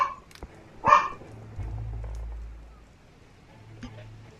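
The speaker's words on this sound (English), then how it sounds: "I'm sorry if you can hear my dog barking." A pet dog barks once loudly, a single sharp bark, indoors in a quiet room, with faint background noise before and after.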